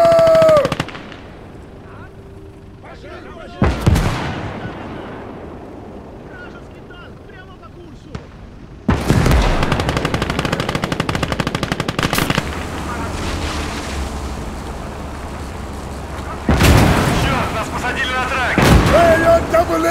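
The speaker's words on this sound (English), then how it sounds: "Artillery strike!" Artillery shell blasts and machine-gun fire from the WWII game Gates of Hell: Ostfront, with heavy booming explosions and sustained rattling bursts over a rumbling battlefield; a few shouted voices come through between strikes.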